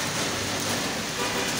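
Steady rain falling in Islamabad, a dense, even hiss close by with no voices over it.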